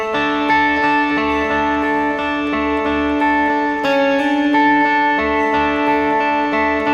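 Electric guitar lick from the bridge of a song as the band breaks down: repeated effected notes with chorus and echo shimmer, steady and prominent over a soft low backing.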